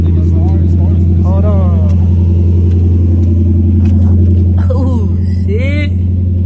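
A V8 car engine with mufflers idles in a loud, deep, steady rumble close by, rising slightly as it revs, while people talk and shout over it.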